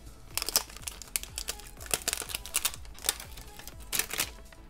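A plastic blind bag wrapper is pulled and torn open by hand, a close run of sharp crinkling and ripping bursts in an uneven rhythm, with no talking.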